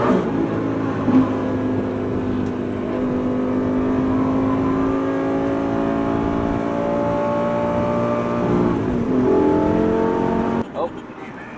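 A straight-piped Audi R8 engine drones loudly from inside the car, rising in pitch as it accelerates, with a shift and a further climb near the end; a voice talks over it.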